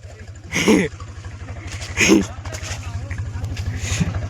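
A tractor stuck on a wet road runs its engine with a fast, steady low chugging. Someone talks loudly over it in two short bursts.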